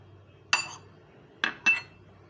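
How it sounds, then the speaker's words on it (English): A spoon clinks against a bowl while banana and melon chaat with sugar, chaat masala and lemon juice is mixed: three sharp, close clinks spaced over a couple of seconds against a quiet background. "Now I will mix them together."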